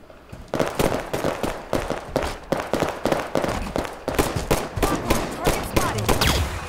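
Rapid weapon fire from a Halo 5 Community Slayer multiplayer match: dense, loud bursts of shots crackle almost continuously throughout, with overlapping reports and explosive hits layered close together.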